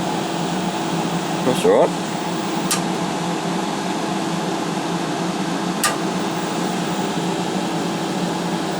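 A welder switched on in a home workshop gives a steady, low electrical hum that runs throughout, with a brief clatter near the start and people talking over it.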